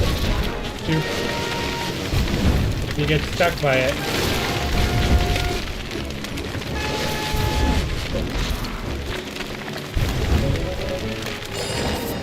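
Heavy rain hisses steadily across a video game scene, with occasional low booms of thunder rolling beneath a person talking over it.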